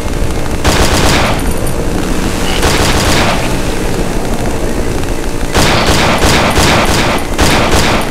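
Loud bursts of gunfire from the horror video game Cry of Fear, several rapid volleys of shots separated by short pauses, with a dense cluster of repeated shots toward the end.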